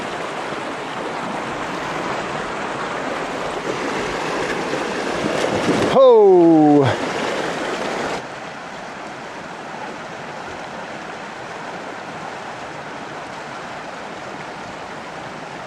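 Steady broadband rush of a desert creek flowing over rocks, heard close and continuous throughout, briefly joined by a shout and a rising whistle-like sound in the middle.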